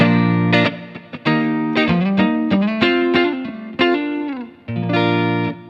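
Electric guitar on a clean tone through an MPC tube amp with a Princeton-style front end and Deluxe output, playing loud, close single notes and chords in a rhythmic phrase with sustained ringing tones.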